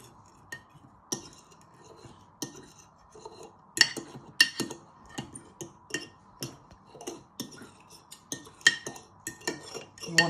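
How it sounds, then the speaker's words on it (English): A spoon stirs enchilada sauce with black pepper in a pan, giving irregular light clinks and scrapes against the metal with a faint steady hum beneath, close and fairly quiet, with no talking. "just give that a little stir with the black pepper in"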